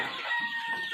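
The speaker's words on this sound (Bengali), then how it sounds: "এখানে আমার 800 মোরগ আনছিলাম" Part of a rooster's crow from a flock of around 800 vaccinated Sonali chickens kept for sale, a brief bright call that is close and fairly loud, with no talk over it.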